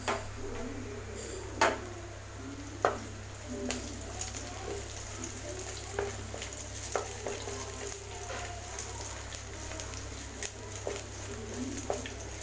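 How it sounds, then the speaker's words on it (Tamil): Onions and curry leaves sautéing in a pan for a Tamil drumstick kootu, a soft steady sizzle broken by scattered clicks and scrapes of a spoon against the pan, with no talking. "கருவேப்பிலையும் இதோட சேர்த்து நல்லா வதக்கிட்டோம்"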